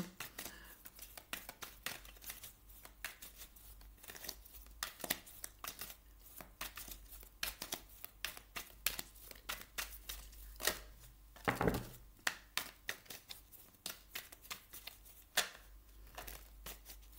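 Tarot cards are shuffled and handled in a quiet series of crisp, irregular riffles, flicks and papery snaps, close by and with no one talking.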